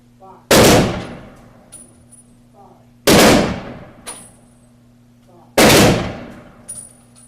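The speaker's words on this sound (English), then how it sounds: "We have 3 volleys of firing squad." Three sharp rifle volleys crack out from a firing squad at an outdoor Veterans Day ceremony in Hyde Park. The loud reports come evenly spaced about two and a half seconds apart, and each one rings out and fades between them.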